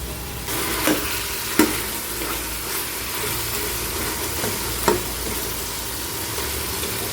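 Beef and onions fry in a pan while a spoon stirs them, making a continuous sizzle broken by a few sharp scraping knocks of the spoon against the pan, with no voices.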